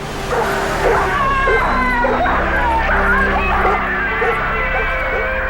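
Police dogs bark and yip repeatedly amid a crowd in 1963 Birmingham, loud and overlapping, with a hubbub of voices and street noise underneath.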